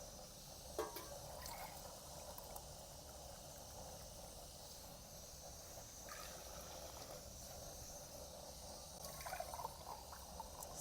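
Mugs of water poured into a cooking pot of stock, a faint continuous trickle and splash over a low steady background, with a few brief knocks, no talk.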